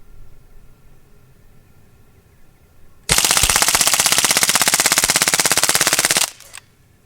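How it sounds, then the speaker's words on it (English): Umarex Legends MP40 BB gun emptying its magazine on full auto: after a quiet start, a loud, rapid, even stream of shots lasts about three seconds and then stops abruptly, with a brief trailing rattle. "So we're going to go full auto, mag dump, see what our accuracy is."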